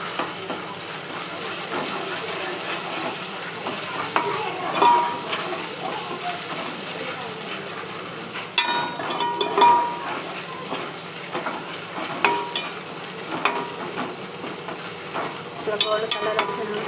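Ginger paste and turmeric frying in a pan, with a continuous close sizzle broken by scraping stirs and occasional clinks, steady and fairly loud, with no talking.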